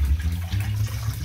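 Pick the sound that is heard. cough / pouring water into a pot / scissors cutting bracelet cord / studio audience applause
pouring water into a pot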